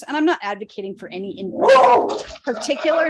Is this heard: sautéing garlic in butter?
no